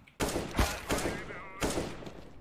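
Several sharp bursts of gunfire in a Counter-Strike: Global Offensive competitive match, spaced a fraction of a second apart, loud and punchy against quieter in-game background sound.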